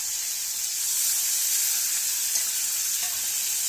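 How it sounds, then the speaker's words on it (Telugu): Salted fish fries in oil in a pan, a steady, close hiss and crackle of sizzling that continues evenly without pause and with no one speaking. "చక్కగా ఇలా వేయించుకుంటే టేస్ట్ బాగుంటుంది అన్నమాట"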